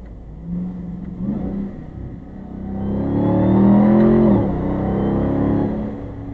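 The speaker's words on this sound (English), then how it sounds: "And then the exhaust, if you can hear this." A Ram 1500 TRX pickup truck's exhaust revs up, climbing in pitch and loudness before dropping back to a steady rumbling idle.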